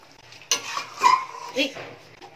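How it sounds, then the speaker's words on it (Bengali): A spoon scrapes and stirs through a pan of potato curry (dum aloo) after water has gone in, giving three distinct sloshing, clinking strokes with a soft simmer between them, close and fairly loud. "বা জলটা দেওয়ার পর দেখো ভালো করে মিশিয়ে নিলাম"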